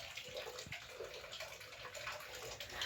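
Tap water pours steadily into a drum being filled for bathing, a continuous close splashing rush that holds even throughout.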